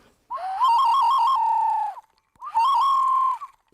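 A hand-held bird-call whistle imitates a Brazilian bird, sounding two clear, loud, close warbling notes, each trilling at the start and then holding steady, with a short pause between them and no talk.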